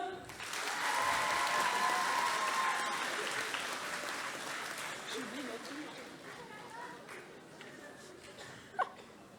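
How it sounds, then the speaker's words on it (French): Audience applause for the set crew at a cosplay contest at the Chibi Rouen 2022 convention, loud sustained clapping and cheers that gradually thin out, with voices and a brief sharp knock near the end. "Un tonnerre d'applaudissements pour eux."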